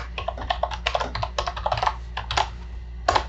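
Keys clatter on a computer keyboard as a username and password are typed into a Sage Intacct login, bursts of close, crisp clicks in uneven runs with short pauses between them.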